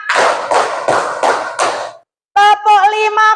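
A class of students claps five times in unison at an even beat, loud and close. A short silence follows, then voices.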